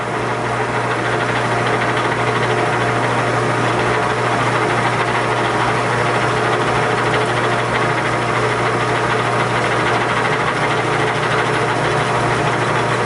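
A lathe neck-turns a brass cartridge case on a mandrel, giving a steady, loud whirring hum with a low vibrating drone that runs evenly throughout, with no speech.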